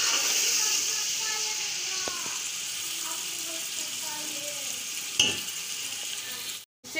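Masala with garlic and ginger fries for degi biryani, a steady close sizzle with occasional stirring scrapes and clinks, someone talking over it throughout.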